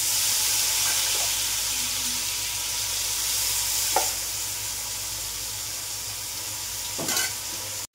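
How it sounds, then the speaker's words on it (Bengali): Marinated mushrooms frying in a little butter give a steady, soft sizzle, with a few faint clicks of a utensil against the pan. "অল্প একটু বাটার দিয়ে এর মধ্যে যে ম্যারিনেট করে রেখেছিলাম যে মাশরুমগুলো সেগুলো দিয়ে দেবো"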